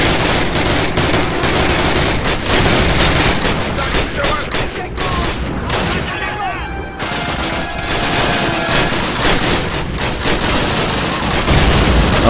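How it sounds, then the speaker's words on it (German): Sustained, loud gunfire from a weapon in Call of Duty: United Offensive, rapid dense shots and crackling blasts filling the whole stretch with only brief lulls, set in street fighting. "Ich würde mal ausnahmsweise mit dieser Waffe schießen"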